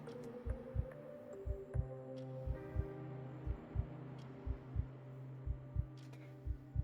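Slow, steady heartbeat thumps in a yandere video game, regular paired beats repeating about every half second over a low ambient hum, close and fairly quiet.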